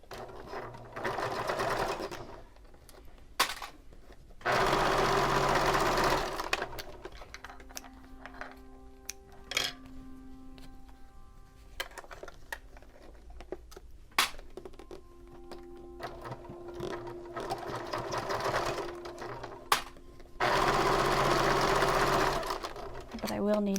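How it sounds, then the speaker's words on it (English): A sewing machine stitches down the end of a fabric bag strap cover in short bursts of rapid whirring, with quieter gaps of handling noise and soft talk between runs. "My strap cover, just going to stitch this end down and then set aside."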